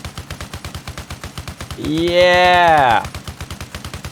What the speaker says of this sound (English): This is a 50 caliber machine gun. And as you can imagine, this thing's pretty lethal.